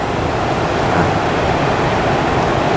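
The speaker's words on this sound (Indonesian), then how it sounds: "ombaknya terus susul menyusul ya teman-teman" Ocean waves break one after another on the shore, making a loud, continuous, close wash of surf noise with no voices heard.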